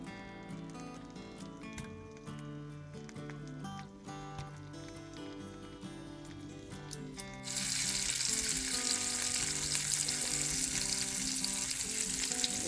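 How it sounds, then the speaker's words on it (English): Music plays, then a loud, steady sizzle of morel mushrooms frying in butter in a pan takes over and continues evenly to the end. "Letting them sizzle. I like watching things sizzling."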